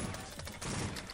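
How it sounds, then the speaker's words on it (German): Gunfire in the video game SWAT 4: a dense, continuous burst of rapid shots that runs loud and unbroken through the whole moment, with no talk over it. "Nein, er schießt."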